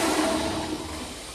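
School bathroom toilet flushing, a loud, steady rushing roar of water through the bowl, close and continuous, tapering slightly toward the end.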